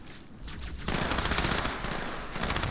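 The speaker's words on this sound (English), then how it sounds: "Oh, the SMG. I forgot about this." Loud rapid-fire SMG bursts from Halo 2, starting abruptly after a quieter moment and continuing as a dense automatic rattle.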